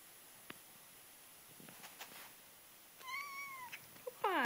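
A cat lets out a short, fairly faint meow of protest, followed by a brief higher-pitched second call over quiet background rustling.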